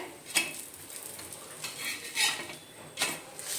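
A rava snack being flipped in a pan, with a few light metallic scrapes and clinks of a spatula against the pan, spaced out over a low background, fairly quiet and close.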